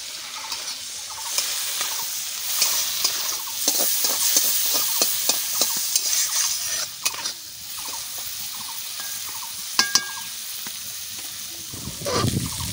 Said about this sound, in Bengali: এখন মাছগুলো ভাজা করে নেব।